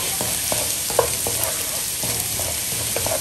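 Shrimp frying with lots of garlic in a pan, a steady hiss of sizzling oil broken by regular scraping strokes of a stirring utensil, close and continuous.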